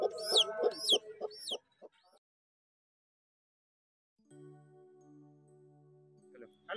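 An Aseel hen clucks close by among newly hatched chicks, with sharp peeping and clucks packed into the first two seconds, then silence, then a low steady droning tone near the end.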